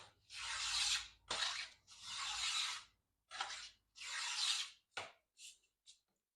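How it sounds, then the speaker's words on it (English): A small, sharpened wooden smoothing plane takes strokes across a wood board, giving a series of rasping, shaving swipes in an uneven rhythm, loud and close, then a few shorter strokes trailing off. "It's just a little tiny smoothing plane."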